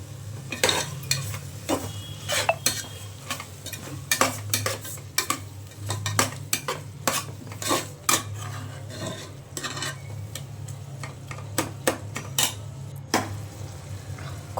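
Tomatoes, masala powders and chili are stir-fried together in a pan for a tomato bath, with rapid irregular metal scraping and clinking of a spoon over a low steady hum and faint sizzle. No speech.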